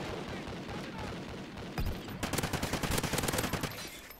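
Remington rifle gunfire in Call of Duty Ghosts multiplayer, a single sharp shot followed by a rapid string of repeated shots, moderately loud over background game noise.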